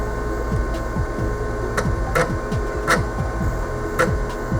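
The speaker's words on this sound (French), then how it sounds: "Et le système va redémarrer. Donc pour l'instant, je redémarre toujours sur ma disquette." Atari computer rebooting from a floppy disk with a Megafile 30 hard drive attached, giving a steady mechanical drive whir with repeated falling seek chirps and a few sharp clicks, close and continuous.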